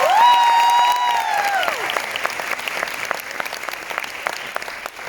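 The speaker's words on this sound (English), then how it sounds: "please give the instructor Park Jae-hyung a big round of applause" At a Korean culture week closing ceremony, an audience applauds an instructor; a held, wavering cheer-like tone fades early while steady clapping continues underneath and carries on alone.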